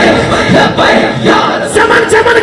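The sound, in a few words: crowd chanting Nara-e-Haidri slogan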